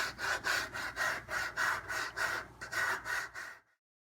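Sandpaper rasping over foam for a Boba Fett helmet, about eleven long, even back-and-forth strokes in a steady rhythm, close and clear before stopping abruptly, with no talk.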